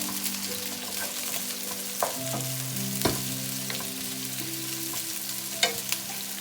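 Chopped onions frying in a hot pan for chilli paneer, a steady close sizzle with occasional stirring scrapes and clinks, no talking.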